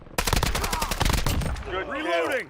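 Rapid automatic gunfire in the video game Rainbow Six Siege rattles off in a dense burst of close, loud shots, then gives way to a voice speaking over fading game sounds.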